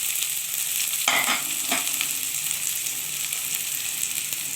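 Onion and green chilli fry with pointed gourd and potato peels in a pan, giving a steady, close sizzle with a couple of sharp clatters of stirring near the middle.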